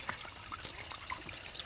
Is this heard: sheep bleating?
no